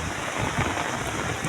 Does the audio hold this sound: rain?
yes